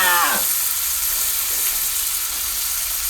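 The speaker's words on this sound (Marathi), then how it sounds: "नुसता कांदा लाल करून घ्यायचा ओके तर कांदा झालाय लाल" Chopped onions fry in a pan over a wood-fired stove, a loud, steady sizzling hiss that continues throughout, with a brief scrape of stirring at the start.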